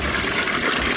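Water pours into a pot of mixed mutton and chicken biryani as a loud, continuous splashing gush, heard up close in a brief burst without voices.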